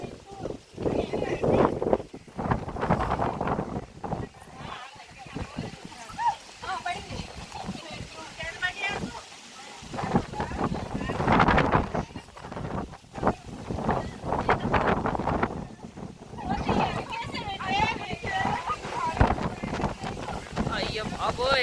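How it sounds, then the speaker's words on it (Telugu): Gusty wind buffets the microphone in rough, uneven surges, rising and falling in loud bursts while several people talk and exclaim over it. "వచ్చింది గాలి."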